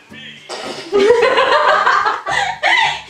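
A phone ringtone imitating a rooster crowing sounds loudly in a home kitchen while people laugh and talk over it.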